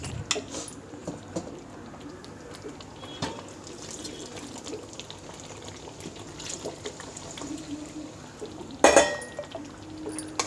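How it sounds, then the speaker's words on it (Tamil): Tamarind water is poured into a pot of kara kuzhambu, giving a soft, steady liquid trickle and splash, close and low, that ends in a brief louder splash near the end. "இப்போ இந்த காரக்குழம்புல நம்ம கரைச்சி வச்சிருக்க புளி தண்ணியை ஊற்றிடலாம்."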